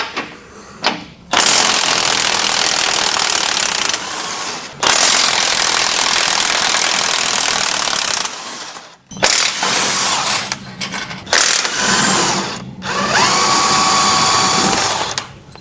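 Power ratchet or impact-style wrench loosening 18 mm bolts on a Jeep during a sector shaft brace install, loud sustained bursts of buzzing mechanical rattle in several runs separated by short pauses, close up with no talking.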